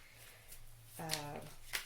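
Tarot cards being shuffled by hand, a brief soft riffling burst that is quiet and close, with a faint voice nearby.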